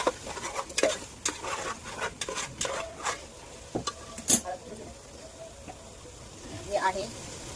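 Tomatoes go into a pan with curry leaves and are stirred, giving a series of clattering scrapes and light sizzles at close range over a faint background.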